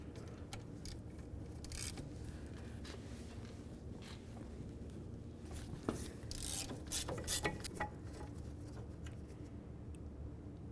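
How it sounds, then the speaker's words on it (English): A ratchet clicks in short bursts while loosening a caliper bracket bolt on the front brakes of a 2000-2005 Buick LeSabre, with close, fairly quiet metallic ticks and some clanks against steady workshop background. "once we get the first bolt loose, we're going to go ahead and leave it in just a couple threads"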